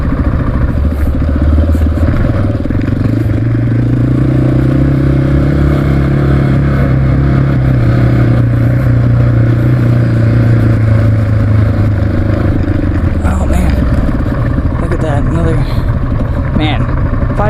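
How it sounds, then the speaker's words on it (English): A dirt bike engine revving while being ridden, a loud, gritty drone that swells and eases in pitch under constant wind rush, with a voice speaking over it near the end. "Oh god, I love the sound of his bike. It sounds so evil."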